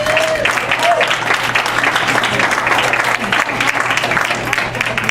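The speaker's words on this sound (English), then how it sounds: "Please make some noise for Stan Chin." Sustained applause and cheering from a comedy show audience as a comedian is introduced, steady and dense throughout with crowd noise layered in.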